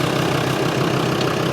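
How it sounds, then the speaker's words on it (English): Land Rover Defender engine ticking over at idle, a steady, close, fairly loud rumble with an even mechanical chug throughout and no talking. "That's just on idle."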